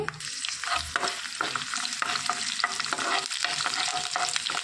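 Chopped garlic and broken dried red chillies frying in hot oil, a loud, continuous crackling sizzle with repeated stirring clatter up close.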